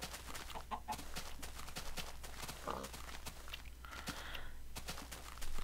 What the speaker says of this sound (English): Hello, chicken. Chicken!